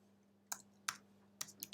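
Four sharp computer mouse clicks, close and quiet, come in an uneven rhythm, each short and crisp, over a faint steady electrical hum.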